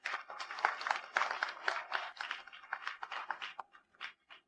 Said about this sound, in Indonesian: mari sambut pasangan pengantin dengan tepuk tangan meriah